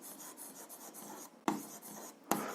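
A pen or pencil scratches across paper while a math solution is written down, a series of short close rubbing strokes with two sharper taps as the writing tool touches down, quiet and without talk.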